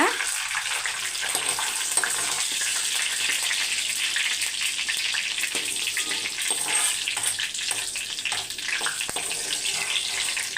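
Food frying in oil in a home kitchen, a steady, dense sizzle and hiss that runs unbroken from start to finish with no voices.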